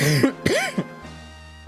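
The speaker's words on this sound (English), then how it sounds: "When I'm not coughing." A person coughs and clears their throat in a few rough, close bursts over the first second, then quiet follows.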